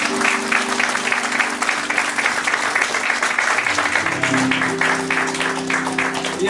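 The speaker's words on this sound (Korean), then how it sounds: "수많은 분들 위해서 함께 큰 박수를 요망드리겠습니다" Applause from a church congregation at a Christmas celebration at a Korean church in Abu Dhabi, a dense, steady wash of many hands clapping close by throughout.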